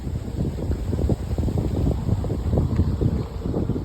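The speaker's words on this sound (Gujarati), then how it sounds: "એવો મસ્ત મસ્ત પવન ભાઈ જોઈ લો" Steady wind blows under neem trees, buffeting the microphone with a continuous low rumble and rustle from start to end, with no voices.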